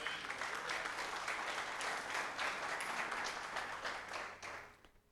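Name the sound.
congregation applauding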